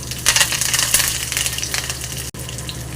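Mustard seeds, cumin, chana dal, urad dal and curry leaves crackle in hot oil while tempering for a coconut raw mango chutney, a close, dense sizzle with rapid popping spits, briefly interrupted by a short gap.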